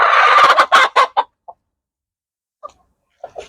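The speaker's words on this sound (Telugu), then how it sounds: "నాకు ఎందుకో ఈ పెట్ట డౌట్గానే ఉంది" A black hen clucks in a rapid burst of loud, close calls, then gives a few short, sparse clucks after a pause, with no other sound around them.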